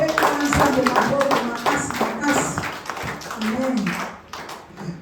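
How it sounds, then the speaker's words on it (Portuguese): Congregation clapping hard in church during a Portuguese-language service, a dense run of rhythmic claps mixed with voices and music, fairly loud and continuous before easing near the end. "Aplauda a Deus bem forte"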